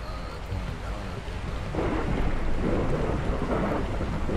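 Rain and thunder in the horror game Pacify: a steady wash of rainfall with low rumbling thunder that swells louder partway through and keeps rolling to the end.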